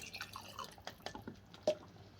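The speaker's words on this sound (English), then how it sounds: "the fat and the liquid, I'm going to pour that back in" Fat and liquid from canned gammon are poured back into the meat, making faint, soft drips and small liquid splashes that end in one sharper plop.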